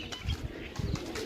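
Pigeons coo in low, soft pulses from a rooftop loft, two or three rounded bursts close by over a steady background hum.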